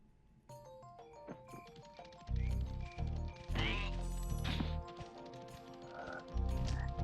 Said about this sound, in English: Look at these fucking frogs, man.